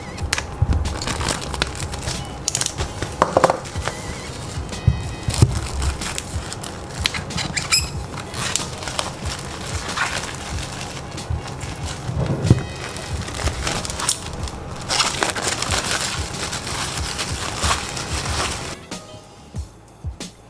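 A box cutter slicing open the packaging of Edifier W830BT wireless headphones, heard as close, crunchy scraping and crackling of cardboard and plastic that continues steadily for the whole stretch with a few sharper snaps.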